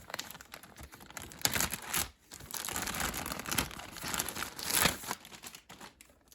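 A plastic bag crinkles and rustles up close as a Weatheralert TA-25 weather radio is unboxed, with continuous crackling handling noise and brief pauses.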